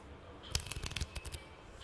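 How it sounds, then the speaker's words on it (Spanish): Playing cards are shuffled in a burst of quick riffling flutters as a sound effect in an audio blackjack casino game. The brief rapid run of clicks stands alone, with no voices. "Barajar las cartas."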